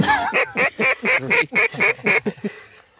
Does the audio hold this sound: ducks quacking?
yes